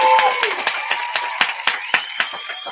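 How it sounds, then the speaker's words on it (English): Sharp, evenly spaced claps about every quarter second ring out over a background hum, like a host applauding a team of staffing business owners at an office gathering. "Let me get my claps on here."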